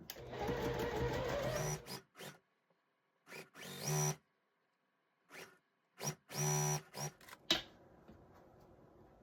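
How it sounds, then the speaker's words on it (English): A domestic sewing machine stitches a row of a quilt block in short, close bursts of whirring, stopping and starting several times with quiet pauses between runs. "we've got one more row to sew"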